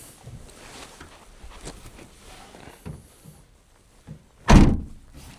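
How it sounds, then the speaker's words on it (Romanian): A van door is shut outdoors with a single loud, heavy thunk near the end, after quieter knocks and rustling from the fitted traction boards and lid. "hai să vedem cum se închide ușa acum"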